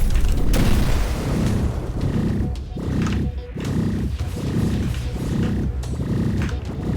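Repeated deep booming explosions from bombs in the video game X-Morph Defense, a run of roughly six loud blasts coming in steady succession, each with a rumbling tail that overlaps the next.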